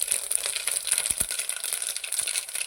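Mustard seeds and fenugreek land in hot oil, giving a dense, close, bright crackle and spatter that runs the whole moment, with a few low knocks underneath.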